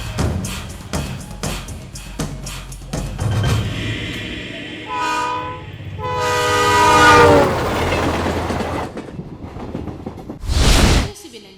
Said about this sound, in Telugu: ట్రైన్ నెంబర్ 2727 విశాఖపట్నం నుండి హైదరాబాద్ వచ్చు గోదావరి ఎక్స్ప్రెస్ మరికొద్ది నిమిషములలో 2వ నెంబర్ ప్లాట్ఫామ్ లకు వచ్చు.